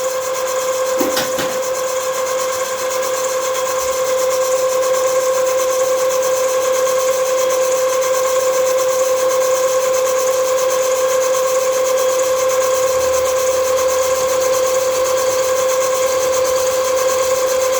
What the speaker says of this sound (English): This is a solid carbide end mill, by the way.